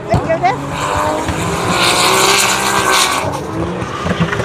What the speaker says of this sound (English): Something tells me the drift cars are coming.